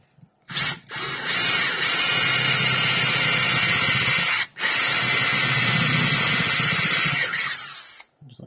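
A power drill with a 1/4-inch bit bores into a resin figure, a loud steady whine with a sharp start, a brief pause near the middle, then a second sustained run before stopping.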